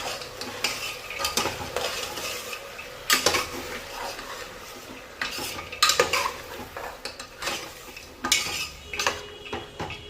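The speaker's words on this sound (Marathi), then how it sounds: "आता छान सर्व मिक्स करून आणि 5 मिनिटं छान परतून घ्यायचं आहे सर्व." Spiced Nagpur-style masale bhat rice with yellow peas and peanuts is stirred and sautéed on a high flame, a spoon scraping and clanking against the pan in irregular bursts over a steady sizzle, close up with no talking.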